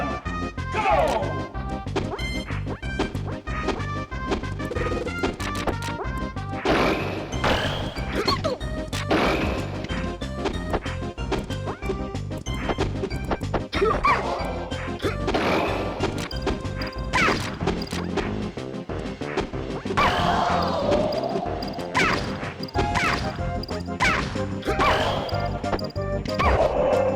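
Super Smash Bros. 64 match at a competitive tournament, with dense game audio of hits, smashes and character sounds layered over continuous game music, loud and busy throughout.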